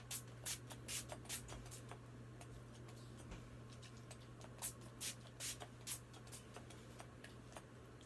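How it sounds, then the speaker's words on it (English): Several short hissing spritzes of Wet n Wild makeup setting spray in quick bursts, fairly quiet, over a steady low hum. "Okay, now I use my Wet Wild setting spray."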